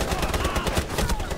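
Rapid automatic gunfire in Rainbow Six Siege, a quick burst of shots, loud and close, over a brief stretch with a voice faintly underneath.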